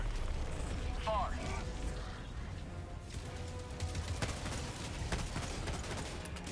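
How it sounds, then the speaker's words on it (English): Orbital strike explosions in a combat video game rumble under steady battle noise, with a few sharp blasts late on and a voice talking over the din. "Requesting orbital strike."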